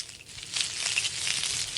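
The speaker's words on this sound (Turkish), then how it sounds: "Tavada kızartıyorum." A carrot frying in a pan in the Toca Kitchen cooking game, a steady bright hiss and sizzle with crackly texture throughout, moderately loud and close, without speech.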